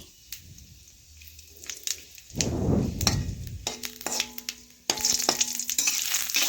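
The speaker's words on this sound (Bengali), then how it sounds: "এ দেখুন তেজপাতা শুকনো লঙ্কা আর দেব আমি গোটা জিরে একটু ভালোভাবে ভেজে নিচ্ছি" Bay leaves, dry red chillies and whole cumin seeds fry in hot oil in a pan, sizzling in bursts with a loud crackling surge in the middle, broken by clinks and scrapes of stirring.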